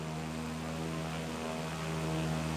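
An Embraer EMB-314 Super Tucano turboprop trainer in Flight Simulator X gives a steady, loud propeller-engine drone that holds constant throughout.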